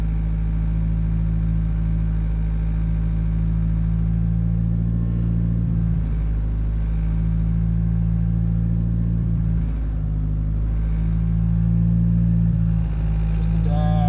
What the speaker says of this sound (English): Car hasn't finished fully going through its warm-up cycle. So it's gonna idle a little bit weird